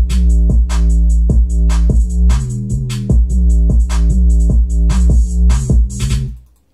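A hip-hop beat plays with a booming 808 bass, crisp repeating hi-hats and snappy percussion in a steady loop, loud and upfront with no voices, fading out at the end.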